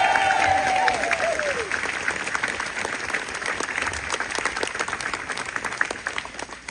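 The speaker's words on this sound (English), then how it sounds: "I'd like you to give him a massive round of applause" Audience applause at a DEFRA gathering, a large crowd clapping steadily and loudly, starting full and slowly tapering, with a brief tonal whine at the start and some murmuring underneath.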